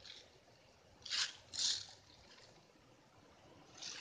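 Small steel BBs for a Daisy Power Line 426 air gun poured into a cupped hand, two brief rattling bursts close by, then a faint third trickle in a quiet outdoor setting.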